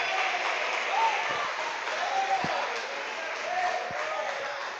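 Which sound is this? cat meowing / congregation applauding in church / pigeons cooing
congregation applauding in church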